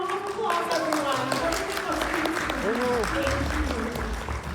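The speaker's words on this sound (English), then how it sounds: "A round of applause, everyone." A conference audience breaks into steady applause welcoming a panel on stage, the dense clapping filling the room at a constant level, with a few voices and tonal sounds carrying over it.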